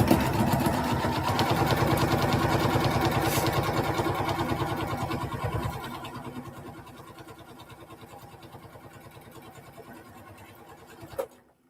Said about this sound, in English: I'm just going to go ahead and sew twice